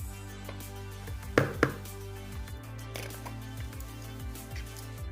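Fish being mixed by hand with gram flour and maida, giving soft, wet squishing and slapping sounds close up, with a couple of sharper knocks early on and no talking.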